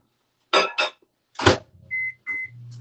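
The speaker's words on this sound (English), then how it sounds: "So put this in the microwave and we're going to brown this up." Microwave oven browning breadcrumbs for chicken parmesan: sharp clicks and clunks of the door and buttons close by, two short high beeps, then the low steady hum of the oven starting to run.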